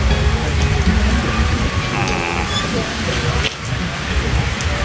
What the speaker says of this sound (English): It's raining worse now.